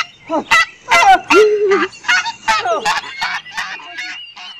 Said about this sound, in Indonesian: ini ada hewan angsa teman-teman